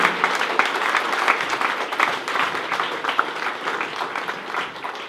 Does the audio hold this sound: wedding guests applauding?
yes